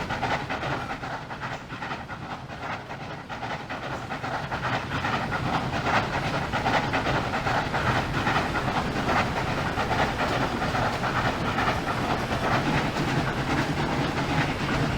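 In Trainz Railroad Simulator 2019, a VR V Class steam locomotive of the 1910 era hauls a very long train with its water injectors on, giving a steady, loud chuffing and hissing rumble that swells slightly and carries no voices.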